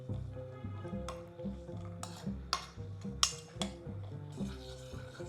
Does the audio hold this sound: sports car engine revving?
no